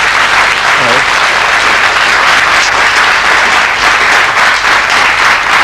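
An audience in a 1991 Icelandic television studio applauds the priest Pálmi Matthíasson, dense continuous clapping filling the room at full volume with a brief voice near the start.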